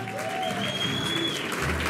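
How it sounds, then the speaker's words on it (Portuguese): An audience applauds at a samba school award ceremony for best samba school on stage, with a steady wash of clapping, a few whistled tones and faint voices in the background. "Um grande aplauso dos sócios da Mangueira"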